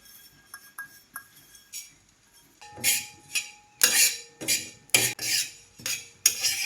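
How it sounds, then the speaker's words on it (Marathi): Sesame seeds dry-roasting in a pan for curry leaf chutney, stirred with a spoon: quiet scattered clinks at first, then repeated loud bursts of scraping and rustling as the seeds are tossed, no talking. "तीळही मी भाजून घेणार आहे."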